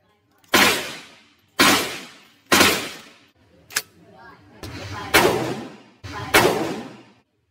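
Shotgun shell fired from an M79 grenade launcher at an outdoor range in Las Vegas, six loud booming shots spaced about a second apart, each with a long decaying echo, with a small metallic clack between them.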